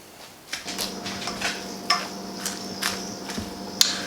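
Ingredients for Thanksgiving dressing are mixed in a bowl, with irregular scraping and knocking strokes over a steady low hum. The strokes are close and moderately loud, with one sharper clink near the end.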